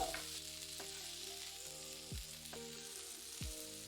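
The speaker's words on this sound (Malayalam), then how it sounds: "1/4 കിലോ വെണ്ടയ്ക്ക നന്നായിട്ട് കഴുകി ഒരു തുണി കൊണ്ട് വെള്ളമെല്ലാം തുടച്ചു മാറ്റി ചെറുതായിട്ട് അരിഞ്ഞതിട്ട് 10 മിനിറ്റ് ഫ്രൈ ചെയ്യുക." Chopped okra frying in a pan, a steady dense sizzle throughout with a few faint scrapes of stirring over it, close and fairly quiet, no voices.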